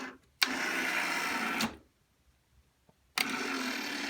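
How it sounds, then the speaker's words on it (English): Geared high-torque motor driving a metal chain inside a Star Trek Genesis Device console prop replica whirs steadily for about a second, stops, then starts again; no speech. "inside here is a high torque motor with gears and a real metal chain, and that's what drives it"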